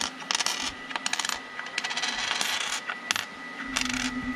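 Copper wheat pennies clattering and rattling as they drop and turn over in a penny sorter, a rapid series of small metallic clinks.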